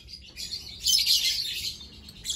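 Lovebirds chirping in a breeding cage, a cluster of high, close chirps and twittering that builds to a busy peak midway, then thins out, with faint background hum.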